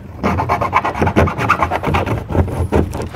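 Metal edges of a Roadmaster Direct-Connect base plate for a 2021 Jeep Wrangler being filed down, a steady, loud rasping of repeated back-and-forth strokes, close up and uninterrupted by speech.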